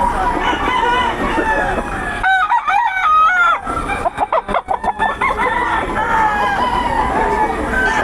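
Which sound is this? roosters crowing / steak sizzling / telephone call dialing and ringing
roosters crowing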